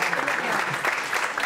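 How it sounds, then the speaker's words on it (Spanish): Audience applause during a Spanish-language sales talk: a short, dense burst of clapping that holds steady and loud, with voices mixed in. "Toma ya, un aplauso, ¿no?"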